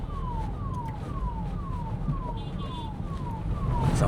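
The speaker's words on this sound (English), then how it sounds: "If only they'd let Karan drive that ambulance" An ambulance siren wails in a steady repeating falling sweep, about two cycles a second, over street traffic noise in Bengaluru, loud and close throughout with no speech.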